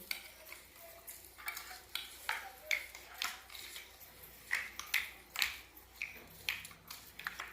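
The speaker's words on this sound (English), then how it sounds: "Stir it with the spoon." A spoon stirs banana delight in a bowl, making a run of soft, rhythmic scraping strokes close by, spaced roughly every half second, with no talk over it.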